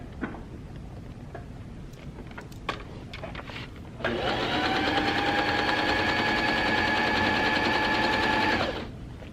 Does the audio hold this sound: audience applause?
no